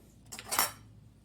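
A tasting spoon knocks against a pot of Alfredo sauce, giving one short, close clink with a quick metallic ring that fades fast.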